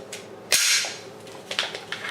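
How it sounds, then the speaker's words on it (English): A compact Glock pistol's slide is dropped on the unloaded gun, producing one sharp metallic snap. Softer handling clicks and rattles follow as the gun is set down nearby. "Just drop the slide and set that here."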